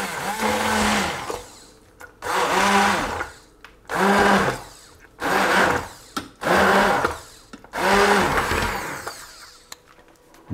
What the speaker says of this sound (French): On va maintenant le mixer.